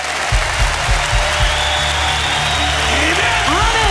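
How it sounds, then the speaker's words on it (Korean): An audience at a church worship service applauds in a loud, dense wash of clapping that runs throughout, with a low musical drone beneath. "박수를 쳐요. Aplauda."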